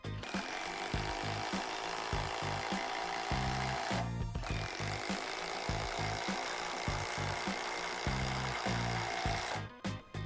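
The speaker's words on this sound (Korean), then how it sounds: "이어서 긴 육각 나사까지 체결해보죠." Impact driver at its fourth speed setting drives a long hex screw, a dense, continuous rapid hammering rattle lasting several seconds, briefly pausing near the middle before resuming, loud and close with no talking.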